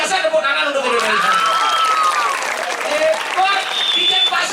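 An audience applauding and cheering at a lively outdoor stage show, a loud continuous roar of clapping with whistle-like tones and voices mixed in throughout.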